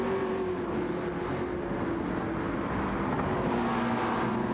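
Race car engines, a McLaren and a Lexus, in a racing video game at the Dragon Trail Gardens track: a continuous droning engine note with shifting pitch, steady and moderately loud.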